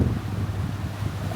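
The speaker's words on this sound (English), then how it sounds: "22 knots of wind, right there." Strong wind of about 22 knots roaring across a sailboat at sea, a steady, loud, low rush of buffeting air and water with no voices.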